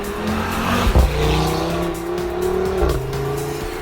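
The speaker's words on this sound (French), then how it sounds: "au volant de notre Audi RS3 rouge, on fait trembler les monts et vallées de l'arrière-pays provençal" A red Audi RS3 is driven hard along winding mountain roads in the Provence backcountry, its engine note loud and close, shifting pitch through gear changes with a sharp burst partway through.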